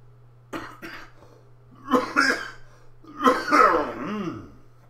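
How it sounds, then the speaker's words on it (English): Several coughs, a couple of short ones followed by two louder, harsher bursts, close up with no talking. "We're coughing on TV."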